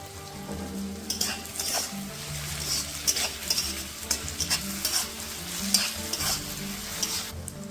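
Sugar sizzling in hot oil in a pan while mutton kosha is being cooked, a close crackling fry broken by sharp bursts of spatter and stirring, with a low hum underneath.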